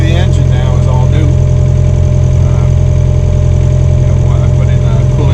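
A sailboat's inboard engine, newly fitted with a coolant pump, runs steadily at 1,500 RPM, a loud close mechanical drone with a constant low hum, under talking.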